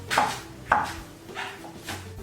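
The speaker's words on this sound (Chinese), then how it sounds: "然后最后葱花就稍微切的碎一点" A knife chopping scallions on a cutting board, with a couple of sharp, fairly close cuts and softer follow-up strokes in an irregular rhythm, under a low background hum.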